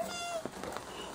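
A pet cat meows indoors in a home, one or two short, fairly close cries that rise briefly above faint room sound.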